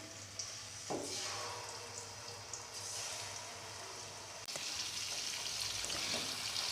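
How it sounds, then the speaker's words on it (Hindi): Chicken pieces go into hot oil for a restaurant-style karahi, giving a soft, steady sizzle with a brief clatter near the start and a sharper burst of frying midway. "ऑयल गर्म हो गया, अब इसके अंदर हम अपना चिकन ऐड करेंगे।"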